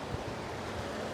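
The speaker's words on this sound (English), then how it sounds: "Small little ripples in the waves." Low-tide ocean surf at Myrtle Beach, South Carolina, with small rippling waves: a steady, soft wash of water and wind rumble, fairly faint and continuous, without talk.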